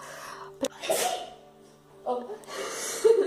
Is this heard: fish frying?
no